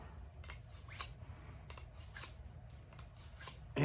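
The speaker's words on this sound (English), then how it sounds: "Now I'll run it through a little ceramic pinch sharpener that it's got." A Gerber Versafix knife blade is drawn through its small ceramic pinch sharpener, giving several quiet, short scraping strokes in an uneven rhythm, heard close and with no talking.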